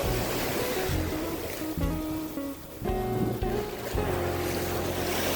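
Ocean waves roll onto a white sand beach in Zanzibar on the Indian Ocean, a steady broadband wash with wind buffeting the microphone and faint tonal sounds drifting in, loud and continuous throughout.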